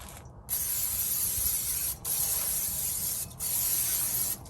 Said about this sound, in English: Now I'll take the same olive oil spray.